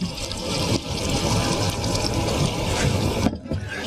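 Water pours into a hot pan of mutton korma with coriander, a continuous hissing, bubbling rush that runs for several seconds before cutting off abruptly near the end.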